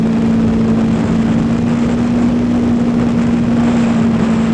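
Honda VFR800 motorcycle engine held at a steady high 8,000 rpm on the Nürburgring Nordschleife, a loud, constant whine with road and wind roar underneath, close and continuous, with no talk.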